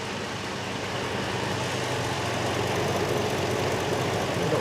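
A U-Haul truck idling after a new engine install, a steady low rumble with a broadband mechanical hum, constant and moderately loud with no talk.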